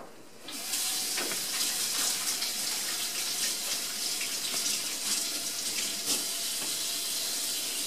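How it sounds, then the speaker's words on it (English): Water runs steadily from a kitchen tap while hands are washed, making a constant hiss and splash with small shifts as the hands move under the stream. "So let me wash my hands and we'll get started."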